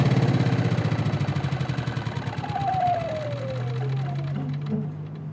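An inverter generator, rated at 3000 watts, starts with a fast knocking beat, then its pitch and load drop as the engine is turned down to a lower, smoother idle.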